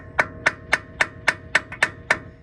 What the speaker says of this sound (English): I just take the hammer and I go around each edge right next to it and tap